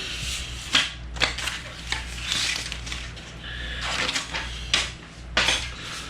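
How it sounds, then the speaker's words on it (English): Backing paper peeled off an adhesive Arcade1Up arcade cabinet bezel graphic, giving several short crinkly, crackling bursts spread across a few seconds over a low steady hum, with no talking. "Flip your graphic back, peel off your backer."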